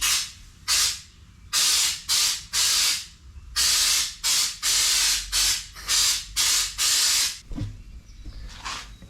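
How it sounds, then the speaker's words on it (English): A spray gun at 50 psi test-spraying tintable Raptor bed liner onto a small piece of cardboard, sounding as a series of loud, sharp hissing bursts of varying length with short silent gaps between them, followed by softer handling noise. "Just did a quick test spray."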